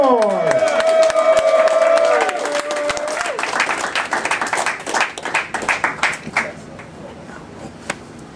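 An audience at a Kung Fu Sundays comedy show breaks into loud clapping and cheering after a performer is introduced, the applause swelling then tapering into scattered claps with a few whoops.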